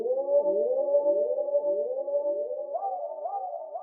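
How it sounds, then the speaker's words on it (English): Two layered synth tones hold a steady pitch while repeating delay echoes sweep and wobble beneath them, the echo rhythm shifting faster near the end. "These are two exactly the same synths, but it has this delay rate automation on it"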